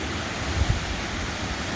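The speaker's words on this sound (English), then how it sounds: "And here's another view of the waterfall from another angle." Steady broadband rush of the Whangarei waterfall in New Zealand, a continuous full-sounding roar of falling water with no voices over it.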